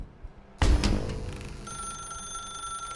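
A telephone rings inside a dark room in The Stanley Parable, a sudden loud ring kicking in and then settling into a steady, sustained electronic trill that carries on alone without talk.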